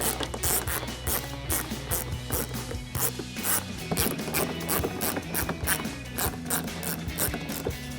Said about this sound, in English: I'm going to take my ratchet, my 10 millimeter socket,